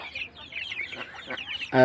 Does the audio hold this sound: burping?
no